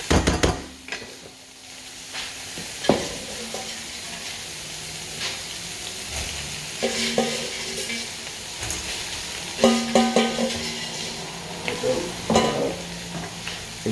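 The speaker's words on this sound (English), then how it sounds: "So I'm going to add the chips in." Potato chips tipped into a hot pan for Chinese-style salt and chilli pepper chips and stirred, giving a steady close sizzle broken by occasional knocks and scrapes of the utensil against the pan.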